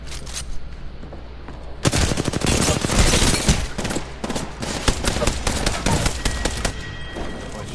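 Gunfire in the video game Apex Legends: a loud, sustained burst of rapid shots begins abruptly after a quieter opening, then keeps going as choppier volleys with brief pauses.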